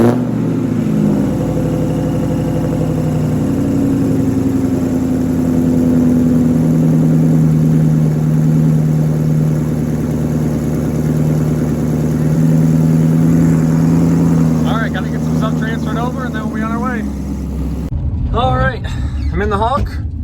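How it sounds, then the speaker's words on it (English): A cold start of the engine of a car nicknamed the Hulk settles into a loud, steady idle with a low, droning tone and slight pitch shifts, while a person talks over it near the end. "how about a cold start on the Hulk?"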